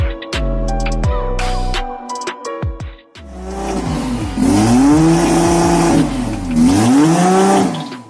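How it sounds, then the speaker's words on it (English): Drag racing cars, including a Supra, revving hard and launching off the line on a prepped strip, with loud rising engine roars and gear changes that sweep up and fall away, close and continuous. "According to Hopkinson, once both cars come off the line at the same time"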